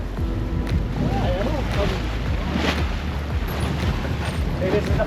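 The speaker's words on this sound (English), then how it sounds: "The gusts are pretty strong." Strong wind gusts buffet a sailboat under way, with steady roaring wind noise, flapping and creaking from the rigging and water sloshing close by.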